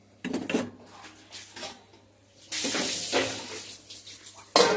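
A lid goes onto a pot of taro curry, with close metallic clanks and scraping of cookware, a brief hiss, and a sharp clatter at the end.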